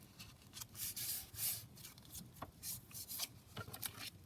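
Craft card paper being folded over and creased on a desk during junk journal making, giving a soft, close papery rustle and rubbing in several quiet bursts.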